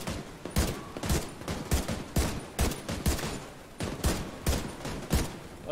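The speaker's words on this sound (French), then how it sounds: "je leur tire dessus au calme" Repeated bursts of gunfire in The Division 2 come in quick, loud volleys roughly every half second, a steady rattling exchange of shots from a third-person cover shooter, with no talk over it.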